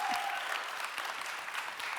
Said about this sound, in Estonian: veel kord aplaus!